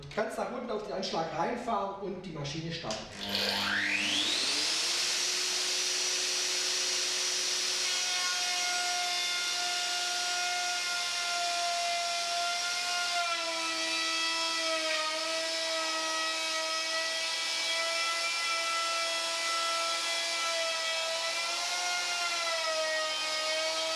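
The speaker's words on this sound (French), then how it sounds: "Placez la fraise, réglez la butée sur 15 mm et plongez en démarrant la machine." A Festool router spins up and plunge-mills a door seal groove with an OF-FH routing template, a rising whine settling into a loud, steady high-pitched cutting drone with slight pitch dips as it bites, after brief talk at the start.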